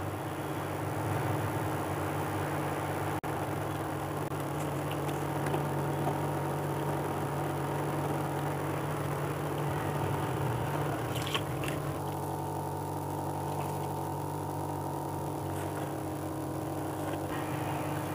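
A mixer grinder churns cream for homemade ghee, a steady loud motor whir with sloshing, constant throughout with a slight change in tone partway.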